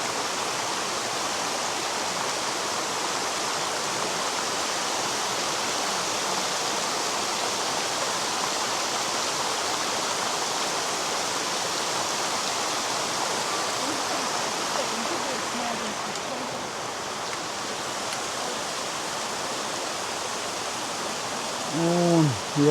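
A waterfall dropping about 30 to 40 metres into Morskie Oko lake in the Tatra mountains gives a steady, broad rushing roar that holds at even loudness throughout, with faint voices near the end.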